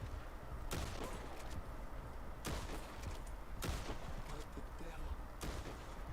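Gunfire in the Red Dead Online video game: several loud, sharp broadband shots in separate bursts spread across the span, over steady low game ambience, with no talking.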